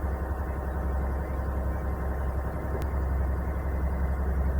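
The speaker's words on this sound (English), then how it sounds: "You can probably hear the engine in the background." An anchored sailboat's engine runs steadily to charge low batteries, a constant low idling rumble heard alone throughout.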